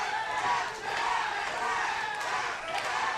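A wrestling crowd at an NWA Rampage Pro match cheers for Corey Hollis, a steady roar of many voices with swelling shouts, heard alone without commentary.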